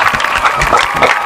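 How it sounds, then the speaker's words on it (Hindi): A crowd at a Bhadohi cycling club gathering claps in a loud, scattered burst of hand claps, brief and uneven. "ताली कमजोर क्यों बज रहा है?"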